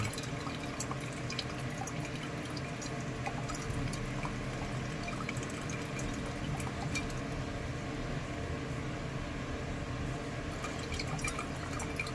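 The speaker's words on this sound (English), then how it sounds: "I'm actually going to use a little bit more hot water." Hot water is poured steadily over a scored glass bottle to split it, a continuous trickling and splashing with fine drips that runs evenly and closely throughout.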